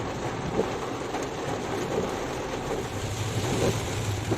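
Steady heavy rain pours down, a constant dense hiss with a low rumble underneath and occasional faint knocks, no voices present.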